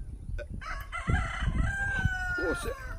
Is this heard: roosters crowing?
yes